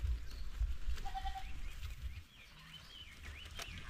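A farm herd of native and upgraded goats, with one faint, brief bleat rising over low rustling and shuffling nearby.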